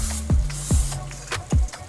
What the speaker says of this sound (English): And so we're just gonna spray these guys up.